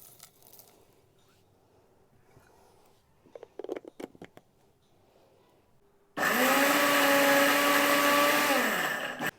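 Electric mixer grinder jar pulverizing whole spices into powder for a cold-and-cough tea, starting abruptly after a few quiet clicks and handling sounds and running as a loud, steady whine for about three seconds before stopping.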